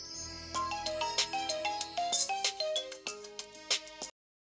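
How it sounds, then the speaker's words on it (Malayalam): A mobile phone plays a melodic electronic ringtone, a quick tinkling run of bright repeating notes for about four seconds before cutting off abruptly, close and clear with no talk over it. "എന്റെ ഫോൺ."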